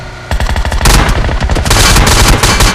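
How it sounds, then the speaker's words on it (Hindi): Gunfire in PUBG: loud, dense bursts of rapid automatic shots with heavy booming impacts, overlapping and nearly continuous for almost three seconds, close and intense. "और हम पे हो जाता है फायर"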